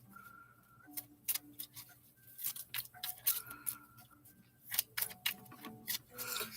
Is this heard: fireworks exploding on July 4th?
no